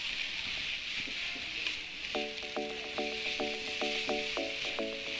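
Noodles stir-frying in sesame oil make a continuous hissing sizzle, with a run of bright rhythmic clicks from the utensil coming in partway through.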